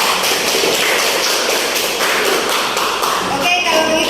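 Classroom audience applauding after a round of student presentations, a dense steady patter of many hands clapping that holds for about four seconds.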